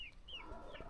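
Hens clucking on a farm, a few short rising calls close by in quick succession over steady low background noise.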